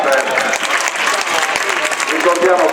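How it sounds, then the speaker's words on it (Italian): A crowd claps loudly for firefighter rope climbers at a fire brigade demonstration in Cagliari, dense continuous applause with voices mixed in, close and sustained. "Un applauso ai nostri climber."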